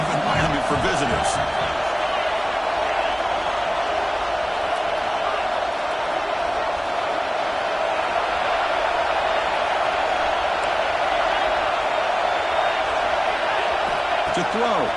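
Stadium crowd at a college football game, Texas Tech at Oklahoma, making a steady, dense roar that holds at the same level throughout, with a few sharper shouts rising above it near the start and the end.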